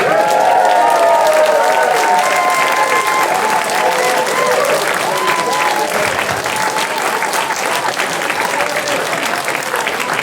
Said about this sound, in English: a huge round of applause for Nicholas Santos!